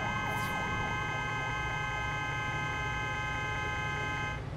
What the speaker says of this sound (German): es gibt nur den einen Sound, nur diesen Hup-Sound